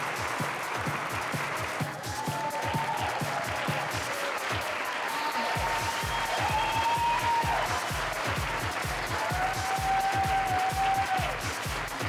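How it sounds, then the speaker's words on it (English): Sustained audience applause, many hands clapping steadily and loudly, with faint cheers and whistles rising over it. "this is a round of applause for Mr. Deepak Jain"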